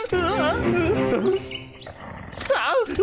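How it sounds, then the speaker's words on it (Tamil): Cartoon tigers roar in an animated jungle, two or three loud, drawn-out growling roars that rise and fall, one near the start and another near the end, with a short lull between them. "இது அநேகமா அந்த வேட்டையாடி சாப்பிடுற புலிகளா தான் இருக்கும்னு நினைக்கிறேன்."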